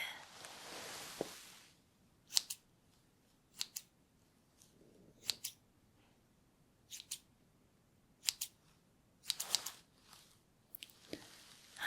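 Small metal scissors snipping near the ear during an ASMR hearing test, quiet crisp clicks spaced irregularly across the clip after a soft rustle, with no voices.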